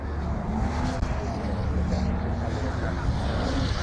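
A Lotus hot hatch pulls away at a Goodwood Breakfast Club gathering, its engine a steady mid-distance hum under general crowd murmur.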